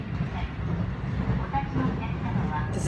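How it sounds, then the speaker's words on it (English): Inside a nearly empty passenger train in motion, a steady low rumble of wheels and carriage noise runs throughout at moderate level, with no voices heard. "Until I came to this train and there ain't nobody here."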